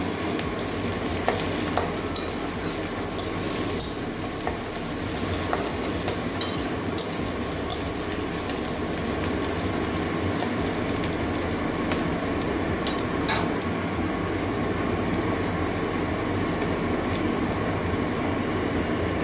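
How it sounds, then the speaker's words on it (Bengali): Green chillies fry with ginger in a pan of water spinach, a dense continuous sizzle broken by light scraping taps of stirring, close and steady with no talking. "কাঁচা লঙ্কা কয়েকটা দিয়ে দিচ্ছি কাঁচা গন্ধ দেওয়া পর্যন্ত ভেজে নেবো"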